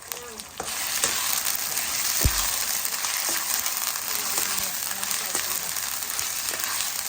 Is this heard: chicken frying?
yes